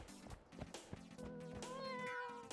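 Cat meows from a cat mod in the game Noita, a few short mews over a layered game soundtrack, clear and close at low overall volume.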